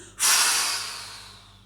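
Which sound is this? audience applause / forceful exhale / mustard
forceful exhale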